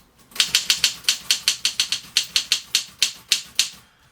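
A Mercedes typewriter clacks with about twenty sharp, evenly paced key strikes, loud and close, with no voices.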